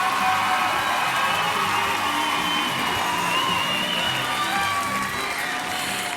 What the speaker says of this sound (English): Give all these women a round of applause for such a great week of competition.